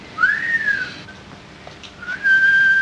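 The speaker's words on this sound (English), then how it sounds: "Must be the whistle he swallowed 10 years ago" Comic slide-whistle effect in an old Laurel & Hardy comedy, a rising-then-falling warbling whistle followed by a pause and a second sustained steady whistle tone, loud and alone with no talk.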